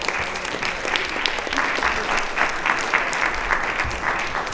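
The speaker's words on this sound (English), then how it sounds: "Let's give Hazel a round of applause on her way up there." Steady applause from an audience at a community meeting about schools, a dense continuous patter of clapping at moderate loudness with no talk over it.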